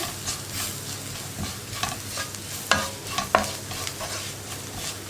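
Turmeric, garam masala and black pepper powders cooking in a pan as they're stirred, a low sizzle broken by several sharp scrapes of the spoon against the pan.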